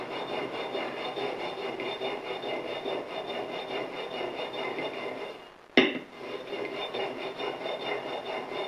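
A shooting plane blade honed on a 1000-grit sharpening stone, giving a steady, close rasping rub that runs back and forth continuously, broken once by a brief sharp knock.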